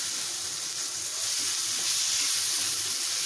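Baida roti cooking dhaba style in a pan gives off a steady, even sizzle with a broad hiss that holds without a break.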